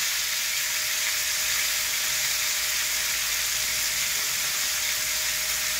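Paneer cubes fry in a pan of hot oil with a little turmeric, giving a steady, dense sizzle that holds evenly throughout with no voices.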